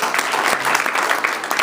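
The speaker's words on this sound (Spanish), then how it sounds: "Ese es aplauso de libertad, porque usted es libre." A church congregation applauds during a service, a dense, steady burst of many hands clapping close and loud, continuous throughout with no voices standing out.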